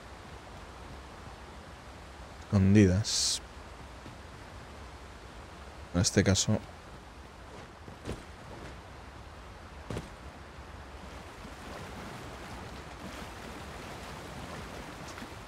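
River water in Dragon's Dogma 2 rushes in a steady broadband hiss throughout, low and continuous, with someone talking over it in two short bursts and a few faint clicks.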